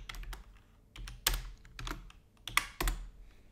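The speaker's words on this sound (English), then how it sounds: "we're going to type this script" Keys clatter in irregular bursts as a script is typed on a computer keyboard for a Roblox Studio GUI, close and crisp, with brief pauses between clusters of keystrokes and no talking.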